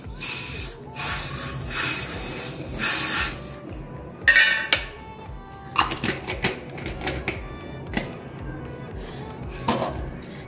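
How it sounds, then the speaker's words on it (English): Bursts of nonstick baking spray hiss into cupcake tins, several short sprays close up, followed by clinks and taps of the metal tins being handled. "So spray in your nonstick baking spray."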